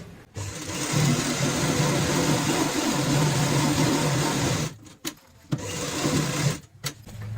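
A sewing machine runs steadily, stitching cloth along a marked line for a ladies' purse made from old fabric, a loud continuous whir broken by two short pauses before restarting.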